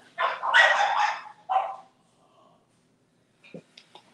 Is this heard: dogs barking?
yes